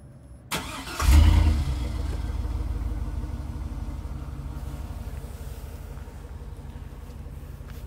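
A 2003 GMC Yukon XL fires up by remote start: a sharp click, a brief cranking surge, then the engine settles into a steady close idle rumble that continues to the end.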